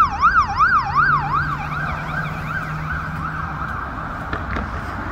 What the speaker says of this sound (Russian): Видите, как у нас скорая помощь ездит?